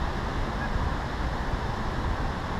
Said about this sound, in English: We got the wind blowing right in on us